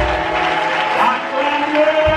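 A church congregation cheers and acclaims Jesus in a continuous, moderately loud crowd noise with faint voices and tonal sounds mixed through it.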